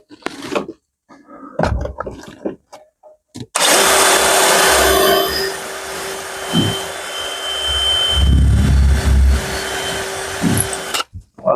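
An electric drill works while a window is fitted. Some brief handling noises come first, then a loud, steady whirring run of about eight seconds with a few changes in load before it stops abruptly.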